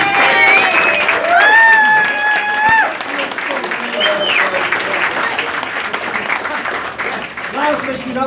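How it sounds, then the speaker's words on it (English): Audience applause for Danielle breaks out at an informal gathering with two tattoo artists, mixing clapping and a few cheers; voices and laughter run over the clapping throughout, loud and close. "Let's give Danielle a big round of applause, please"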